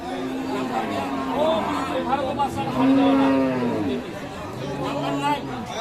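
Sahiwal cows at a busy cattle market low repeatedly in drawn-out moos, mixed with steady crowd chatter and voices throughout.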